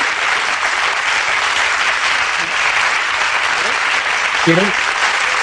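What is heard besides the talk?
audience applause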